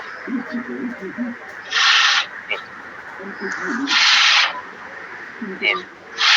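Scissors cut through pant fabric during tailoring, with two long rasping cuts standing out over a steady background of soft scraping and shuffling.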